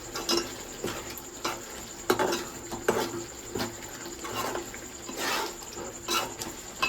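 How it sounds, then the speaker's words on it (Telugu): Prawn cashew curry with coriander being stirred in a pan, a spoon scraping and clinking against the metal in irregular strokes at close range, with a soft wet bubbling underneath and no talk. "ఇలా కొత్తిమీర వేసేసుకొని మళ్ళీ ఒకసారి కలిపేసుకున్నాము"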